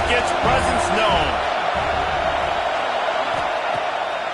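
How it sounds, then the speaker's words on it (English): Stadium crowd at a USC football game, a broad constant roar of many voices with a few whoops early on, under a commentator's voice. "This crowd ready to make its presence known."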